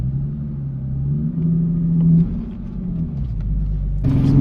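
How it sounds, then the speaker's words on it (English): A six-speed Infiniti G37 coupe's exhaust rumbles close by in a steady low drone, swelling slightly and rising again at the very end. "the exhaust doesn't sound too bad"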